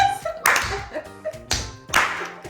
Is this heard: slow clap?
yes